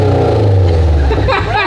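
Engine of a rebuilt Japanese sports car running close by, a loud steady low drone with a slight throttle swell, and voices talking over it toward the end.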